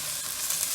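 A brief burst of sliced onions frying hard in coconut oil on a high flame: a dense, even hiss with faint crackles, heard up close without speech.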